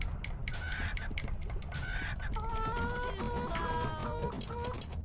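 Cartoon chicken clucking in the MTV Celebrity Deathmatch video game, a run of repeated clucks and squawks over a busy background of game noise and music.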